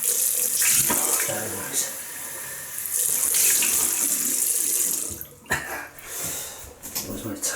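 Tap water runs steadily into a bathroom sink as someone rinses off after a shave with a Merkur 45 Bakelite razor and Speick shaving soap. Someone speaks briefly, and splashes from his hands break the stream near the end.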